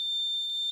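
A single sustained high-pitched electronic beep, steady and fairly loud, cutting off abruptly at the end.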